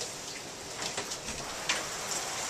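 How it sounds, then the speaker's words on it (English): Heavy rain pours down in Norwich, a dense, steady hiss of drops that stays close and loud from start to finish, with no one talking. "you can see how bad it's chucking it down"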